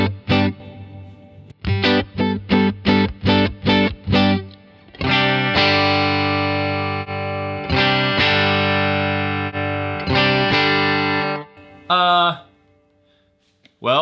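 Electric guitar running through an amp plugin with the processing switched off, giving a driven tone with short choppy chord stabs followed by longer sustained strums, close and loud with no talk over the playing.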